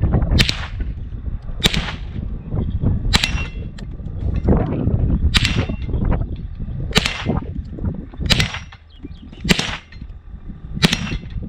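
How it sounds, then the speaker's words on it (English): Savage Model 64 Takedown rifle test fired outdoors, about eight sharp cracks at irregular intervals of roughly one to two seconds, loud and close with faint background noise between shots. "let's test fire this Savage Model 64 Takedown."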